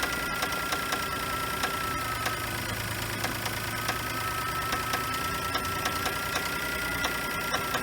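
A Geo Metro engine runs at a steady idle with a fast, even ticking or knocking rhythm, loud and continuous with no voices.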